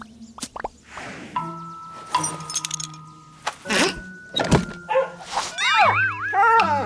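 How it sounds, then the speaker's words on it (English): A dog yelps and barks in short bursts near the microphone, then whines in high, wavering whimpers amid clattering and thumps. "No, doggy, go away!"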